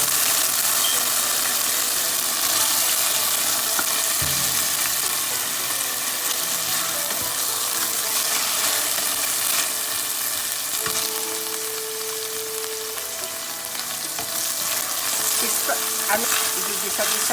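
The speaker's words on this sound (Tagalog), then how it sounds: "Igigisa-gisa lang natin ng konti." Mackerel sardines sautéing in a pan, a steady close sizzle and fry with occasional stirring clinks, continuous throughout with no talk.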